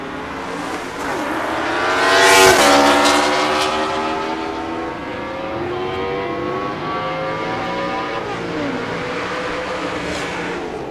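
At a West Coast Hot Rod Association season-finals drag strip, a race car and a motorcycle roar past during eliminations. The loud engine noise swells to a peak as they pass, then holds as a fading drone down the track.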